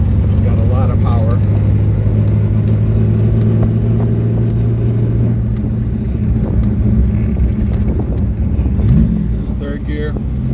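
A Ferrari Daytona cruises in fourth gear on a wet road, its engine a steady, loud in-cabin drone with a low rumble that holds throughout, while a person talks over it.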